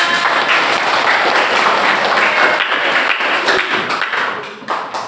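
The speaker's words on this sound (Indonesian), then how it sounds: "Keren banget, tepuk tangan." Indonesian classroom students clap together in a thick, sustained round of hand claps that thins slightly toward the end, with sharp individual taps standing out.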